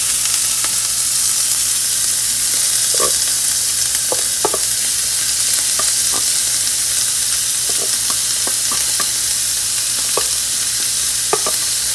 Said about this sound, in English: to my oil, I'm going to add my onions,